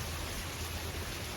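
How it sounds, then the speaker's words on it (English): Steady, faint rain falls on a farm during a storm, a soft even hiss with no other sound over it. "So I'm going to have me a cup and enjoy the rain."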